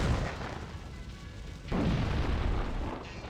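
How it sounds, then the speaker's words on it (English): A deep, rumbling boom from a fake, harmless explosion in the video game The Thing, opening with a heavy blast and a renewed surge midway before rolling on, loud and close, with no talk. "that one right there that I just blundered into, that's not a real explosion"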